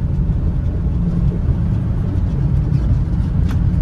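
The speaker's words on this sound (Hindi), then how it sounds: "इसको थोड़ा सा रेस करके देखते हैं" A Maruti Ritz hatchback engine is raced, giving a loud, steady low rumble and drone heard close up from the car. No one talks over it.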